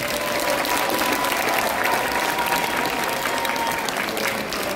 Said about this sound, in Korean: 여러분 우리 목사님께 박수 한번 해주십시오.